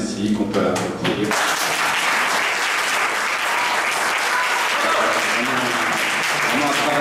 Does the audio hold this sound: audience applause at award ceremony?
yes